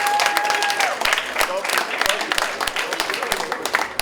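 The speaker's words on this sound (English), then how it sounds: "Please, give yourself a round of applause." A room full of people clapping at a charity ball, dense and sustained applause with scattered louder claps, steady throughout.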